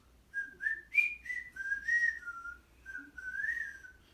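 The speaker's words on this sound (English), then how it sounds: "Bilbo began to whistle loudly" Someone whistles a meandering tune alone, notes sliding up and down with short gaps, fairly close and clear against a quiet background.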